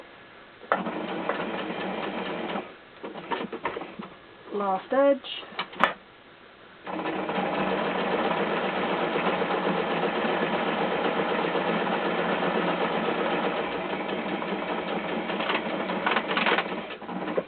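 A sewing machine stitches an Easter bag in a steady, continuous mechanical whir, preceded by shorter stop-start bursts of stitching and a brief spoken remark.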